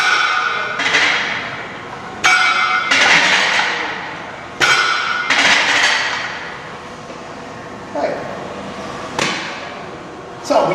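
Fortis chest-supported free weight row machine, loaded with plates, clanks sharply as the lever rises and strikes the underside of the seat on each rep, giving about eight metallic hits at an uneven pace with ringing between them.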